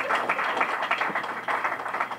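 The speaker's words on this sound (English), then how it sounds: "give them a round of applause" Clapping from a small audience at a laboratory dedication event, a moderate irregular patter of hands, somewhat distant and uneven, lasting a couple of seconds.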